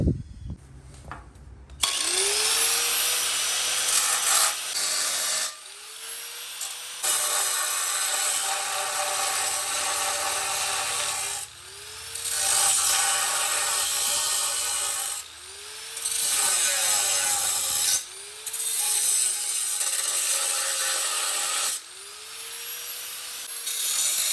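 A power tool cutting metal plates for a Ford Mustang inline hydraulic handbrake build, running in loud, steady bursts of about three seconds each, separated by short pauses and slowing whines between cuts.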